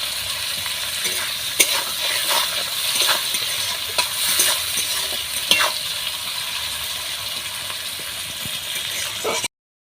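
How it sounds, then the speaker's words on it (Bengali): Chopped onion and potato fry together in a generous amount of hot oil, hissing steadily while a utensil scrapes and clicks through the pan in irregular strokes, close up and without talk. "আলুটা এই পেঁয়াজের মধ্যেই দিয়ে দেবো, এই আলুটাও ভাজা ভাজা করে নেব"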